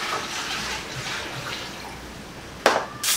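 Water poured into a pan, a rushing splashing flow that rises and falls, then two short louder gushes near the end, alone without talk.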